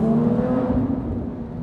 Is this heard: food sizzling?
no